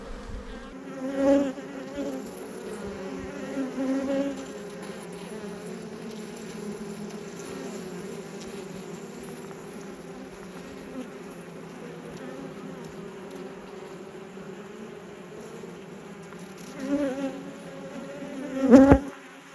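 Honeybees hum in a dense, steady drone at an open hive whose queen was moved from another hive and whose brood is overheated, with a few louder buzzing passes near the start and end.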